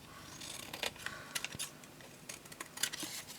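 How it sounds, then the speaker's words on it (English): Scissors cut the tabs off paper card stock in a crafting session, making a series of small, irregular snips and crisp clicks close by, with quiet pauses between cuts. "let's cut all these tabs off."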